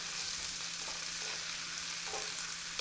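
Roughly chopped onions and tomatoes for a chicken curry sauce fry in a pan with a steady hiss. Occasional soft scrapes come from stirring, and no one speaks.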